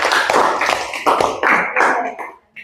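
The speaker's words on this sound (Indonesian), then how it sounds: "Kita berikan tepuk tangan untuk kelompok 1." A classroom of students claps for a student group after a presentation, in several short, uneven bursts of hand clapping that stop abruptly near the end.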